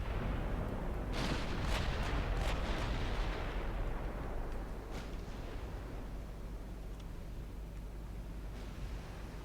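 Naval gunfire from warship guns in Ultimate Admiral Dreadnoughts, in a British 1900 campaign: several deep booming salvos fired in quick succession, then a lingering low rumble fading into steady background noise.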